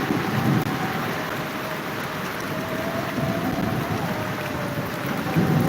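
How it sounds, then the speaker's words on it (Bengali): Steady rain pours continuously during a Kalbaishakhi storm in Dhaka, a dense wash of noise with some wind rumble, fairly loud and unbroken for the whole stretch. "আজকে ঢাকায় বৃষ্টি হচ্ছে"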